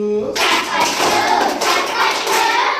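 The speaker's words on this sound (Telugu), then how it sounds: "చేతులు కలిపి చప్పట్లు" Hand clapping in a Telugu children's song for a third-grade class, a dense burst of claps starting after a brief tone, with singing voices mixed in throughout.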